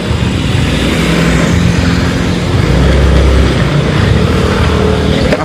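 A motorcycle rides along the Siburik River in Belitung, its engine and wind making a steady, close, broadband roar with a low rumble that swells slightly midway.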